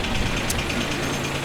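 A snow blower mounted on a Kubota tractor runs steadily while clearing snow, a constant rough mechanical drone with a knocking engine undertone, close and unbroken, with no talking.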